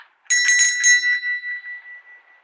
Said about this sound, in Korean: 이 종이 울리면 당신은 글을 쓰러 가게 됩니다